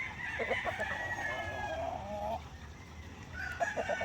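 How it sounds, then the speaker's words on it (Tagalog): Game fowl chicks on a farm give a steady stream of high, thin peeping calls, close and fairly loud, with a brief lull midway before the chirping picks up again. "So ito na lang yung mga sisiw natin dito mga ka-farmers."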